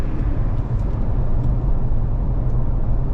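A 2021 Toyota Sequoia TRD Pro with a six-speed automatic accelerates at full throttle. Heard from inside the cabin, a dense low engine roar holds steady and strong throughout, with no talking over it.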